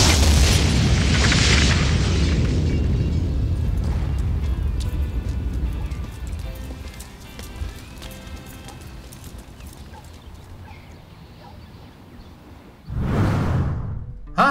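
Backyard explosion sound effect: a loud booming blast opens, decays into a long rumbling tail with scattered debris and crackle, then another heavy burst hits near the end.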